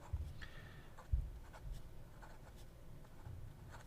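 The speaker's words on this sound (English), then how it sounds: "very, very thin, dry, scratchy line, so I would not recommend it for reverse writing" A fountain pen nib dragged in reverse over paper leaves a thin, dry line, faint, close scratching strokes in short irregular bursts against a quiet room.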